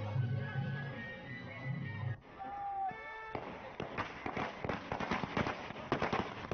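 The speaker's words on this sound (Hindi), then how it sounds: "हर तरफ पटाखे फोड़कर दीपावली का माहौल देखने को मिला" Firecrackers burst during Diwali celebrations in Uttarakhand, India, a rapid run of sharp cracks and pops in the second half, after some background sound and a brief gap.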